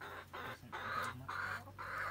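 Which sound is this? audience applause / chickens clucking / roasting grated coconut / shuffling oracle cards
chickens clucking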